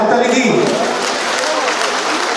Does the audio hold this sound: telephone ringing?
no